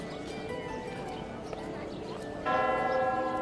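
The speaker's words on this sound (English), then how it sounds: "One by one, couples ring the ceremonial bell as they make their vows" Ceremonial wedding bell in the Love and Deepspace video game, one bright ringing strike sounding late, sustaining over a busy murmur of ambient background.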